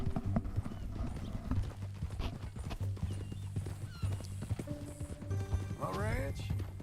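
Horse hooves clip-clop in Red Dead Redemption 2, a steady rhythm heard close beneath talk, music and other game sounds, with a short whinny near the end.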